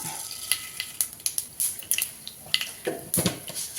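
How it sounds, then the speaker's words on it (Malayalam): Mustard seeds splutter in hot sesame oil in a pan, giving a run of irregular, sharp crackles and pops at close range with no talking. "കടുകെല്ലാം പൊട്ടിയിട്ടുണ്ട്"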